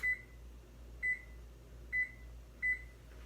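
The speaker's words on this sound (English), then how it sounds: "the buzzer just went off" An oven timer beeping four times at an even pace, short clear electronic tones over a low steady background hum, with no talk.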